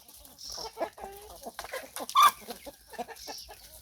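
Young chickens, cockerels and hens, cluck and call in a Thai longan orchard setting, with short bursts of clucking and one sharper squawk over quiet background noise.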